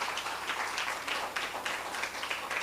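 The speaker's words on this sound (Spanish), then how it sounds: "Eso se merece un aplauso" Steady crowd applause, a dense wash of many hands clapping together at moderate distance, with no voices standing out.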